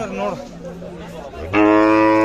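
Khillar cattle low at the Sangola livestock market, one short moo and then a loud, long bellow close by, with market chatter in the background.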